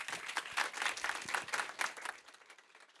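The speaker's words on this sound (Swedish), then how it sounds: "En stor applåd till Malin" A room full of people at a YouTube Accelerate event give a big round of applause, lively and uneven clapping that swells and then fades out toward the end.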